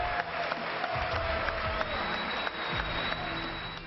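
US Congress members stand in the House chamber and applaud Prime Minister Modi, a dense, steady roar of clapping that fills the room throughout.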